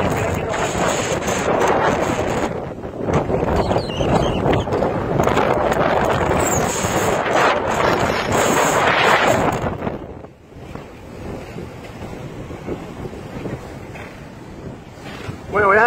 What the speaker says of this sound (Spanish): aquí empezó otra vez el viento